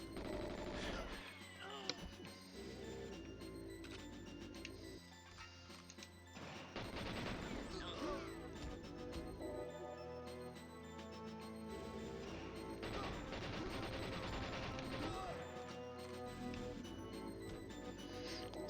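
Gunfire in Resident Evil Village, bursts of shots and crashes scattered through a busy game soundscape with a voice briefly speaking at moderate distance.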